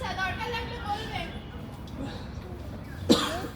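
A single short, sharp cough bursts out near the end, standing above a low murmur of background voices and room noise.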